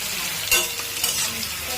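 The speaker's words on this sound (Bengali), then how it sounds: "পেঁয়াজগুলো লাল লাল করে ভেজে নেব মাটনের জন্য" Onions frying in oil with whole spices such as bay leaf, cinnamon, cardamom and cloves for mutton, a close, steady sizzle broken by a couple of sharp stirring scrapes, with no talking.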